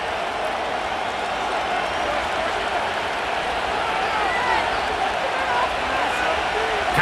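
Simulated stadium crowd in Madden NFL 25 during a Denver Broncos vs Seattle Seahawks game on PS5: a steady, dense roar of many voices that holds at an even loudness throughout, with no distinct claps or chants standing out.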